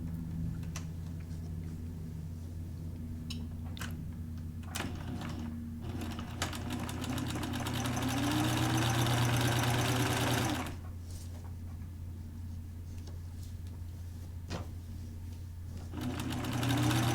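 A sewing machine stitches a new seam in a skirt, running steadily with a continuous mechanical whir and a few short pauses and restarts, close and clear with no talk.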